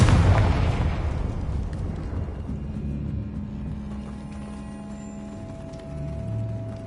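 A Confringo blasting spell bursts loudly at the start in Hogwarts Legacy, a heavy explosive boom that decays into rumbling debris and low ambient hum, no voices.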